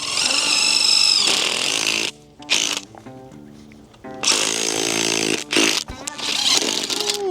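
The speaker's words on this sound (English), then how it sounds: "I'm gonna drill my hole for the bait first." A power drill bores a bait hole into wet swamp ground for coyote trapping, running in two loud, buzzing bursts with revving pitch changes, separated by a brief pause and short stuttering blips.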